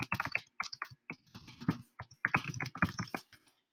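Rapid bursts of typing on a computer keyboard while entering text into a text box in Google Drawings, close and crisp clacking keystrokes in quick runs separated by short pauses.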